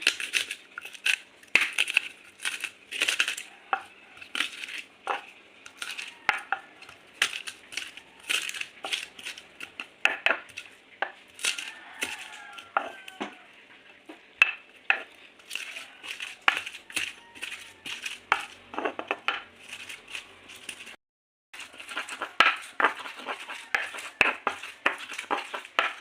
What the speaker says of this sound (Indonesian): langkah pertamanya adalah kita menghaluskan bahan-bahannya dulu ya, seperti kemiri, bawang putih, bawang merah seperti ini